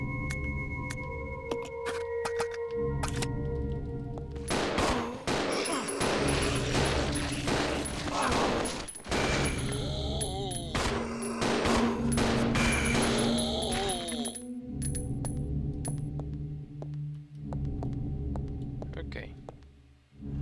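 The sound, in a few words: gunfire from a video game, Resident Evil Zero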